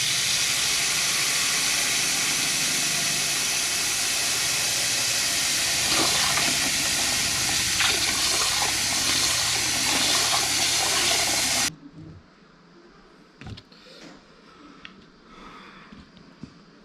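Running water rinsing rose hips, a loud steady rushing hiss for about twelve seconds that stops abruptly, leaving faint handling sounds.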